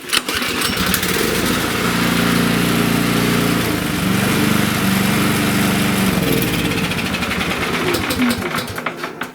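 A Briggs & Stratton snowblower engine, just fitted with a new spark plug, starts after a brief crank and runs loud and steady at close range, its pitch shifting slightly mid-run before settling.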